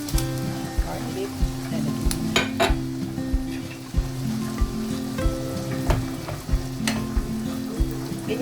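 Corned beef fries in a pan beneath a steady sizzle, while a utensil scrapes and taps against the pan in a loose, repeating rhythm, with a low hum underneath.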